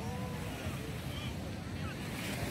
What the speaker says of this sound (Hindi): लहरों का शोर